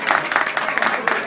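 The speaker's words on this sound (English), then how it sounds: "So please give the magazine a round of applause, please." An audience at a celebration event for a county magazine claps. The applause is dense, close and loud, and holds steady throughout, with a voice mixed in.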